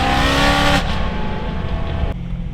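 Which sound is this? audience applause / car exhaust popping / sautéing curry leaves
car exhaust popping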